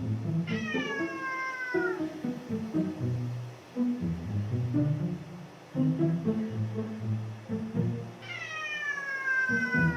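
A white cat meows repeatedly at a white dog, drawn-out rising and falling yowls near the start and again near the end, with lower grumbling cat vocalizations in between, close and fairly loud.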